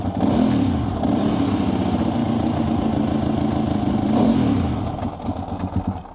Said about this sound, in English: Dry sump clutch, you can hear it.